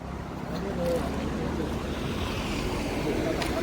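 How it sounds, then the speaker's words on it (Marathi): Sea waves roll in at a beach viewpoint on the Konkan coast, a steady windy wash of surf with some wind buffeting on the microphone and a faint voice in the background. "लाटा बघा कशा येत आहेत"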